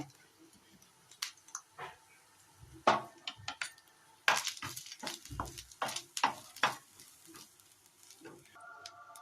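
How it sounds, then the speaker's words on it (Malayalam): Grated coconut roasts in sunflower oil in a pan. Soft sizzling sits under repeated clinks and scrapes of a utensil stirring against the pan, with a few faint murmurs. "അതിലേക്ക് ഒരു 1/2 കപ്പ് തേങ്ങ ഇട്ട് കൊടുത്തിട്ടുണ്ട്."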